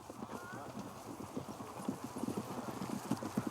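Horses' hooves clip-clop in a steady, uneven rhythm during a brief stop on a group ride, the clatter moderately loud and close, with faint voices and outdoor murmur behind it.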